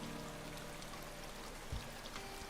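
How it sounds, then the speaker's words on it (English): A river stream flows steadily in the Higurashi video game, a continuous soft rushing and trickling wash of water with a faint low bump partway through, heard alone without voices. "We're at a river."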